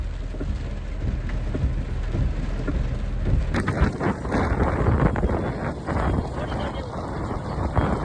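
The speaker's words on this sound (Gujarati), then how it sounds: "તો ભાઈ પૂરેપૂર વરસાદ આવી ગયો" Heavy monsoon rain pouring over village farmland, a dense steady roar with wind buffeting the microphone and a rumble that swells partway through.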